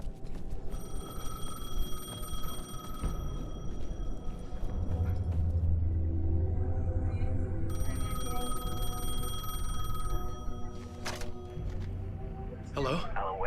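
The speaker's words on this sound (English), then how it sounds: "The phone was ringing." A telephone bell rings repeatedly in the Alan Wake II video game, with steady bursts over a low ambient rumble and faint game sounds, continuing for several seconds.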